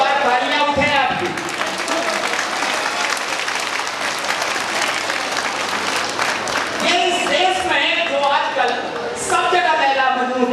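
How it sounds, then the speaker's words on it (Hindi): Loud, sustained audience applause at a Hindi comedy show in Patna, dense clapping throughout with crowd voices and cheering mixed in. "एक बार तालियां उठे आपकी"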